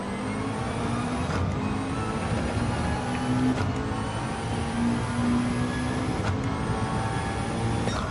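A Gr4 race car in Gran Turismo 7 roars at high revs throughout, its pitch rising and briefly dropping at several gear changes, loud and close with no voices.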